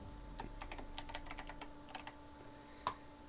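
Keys clatter on a computer keyboard as a password is typed in a quiet room, a quick uneven run of soft clicks with a louder final tap near the end.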